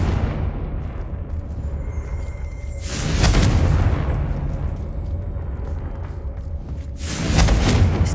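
Confringo blasting spell explosions in Hogwarts Legacy: two loud, booming blasts a few seconds apart, each a sudden roaring burst that rumbles and fades, over a quiet ambient background.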